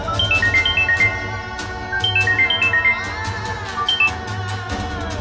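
A melodic phone ringtone repeats in short chiming bursts, looping several times over a low steady background hum.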